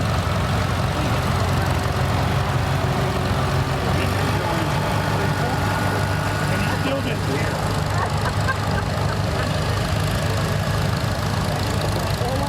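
An antique tractor engine idles steadily through a tractor show parade, a constant low rumble that runs the whole time with people talking nearby.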